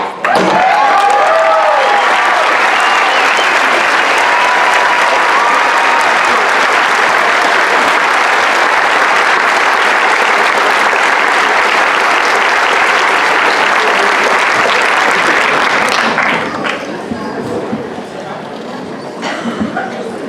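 A town hall meeting on transgender students for the Pickens Board of Education, where a crowd breaks into loud, sustained applause with some cheering, holding steady for about sixteen seconds before thinning out to scattered claps.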